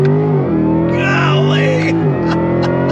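A Chevy Corvette E-Ray launching from a standstill with launch control, its engine roaring loud and close with a steady, rising drone under faint voices inside the cabin.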